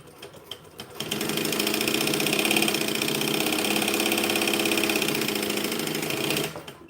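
A sewing machine runs steadily on bonded nylon fabric in one continuous, close, loud burst of rapid stitching lasting several seconds, then stops.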